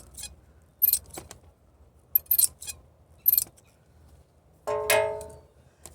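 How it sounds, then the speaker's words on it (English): Short, crisp snips of scissors cutting small corner scraps from 4 ounce fiberglass cloth, four separate close cuts spaced apart, followed by a brief rattling clink. "just cut little, take a piece of 4 ounce cloth like this, just cut little corner scraps off of it like so"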